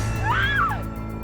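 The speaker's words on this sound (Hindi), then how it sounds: "राहुल अपनी तीसरी डिलीवरी देकर लौट ही रहा था कि फर्स्ट फ्लोर पर कमरे से चीखने की आवाजें सुनाई दी।" A single rising-and-falling scream from a first-floor room in a Hindi romantic suspense audio drama, one voiced cry lasting under a second over a low hum.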